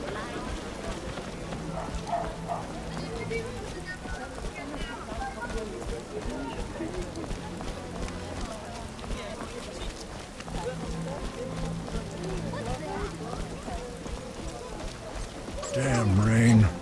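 Steady rain falls in The Witcher as a constant wash of patter under ongoing talk and occasional footsteps, ending with a louder close burst.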